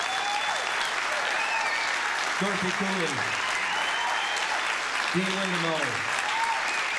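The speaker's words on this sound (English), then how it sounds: "How about another big round of applause for all our songwriters?" Sustained audience applause at a winter songwriters' concert, steady dense clapping from a large crowd throughout, with a voice speaking briefly over it.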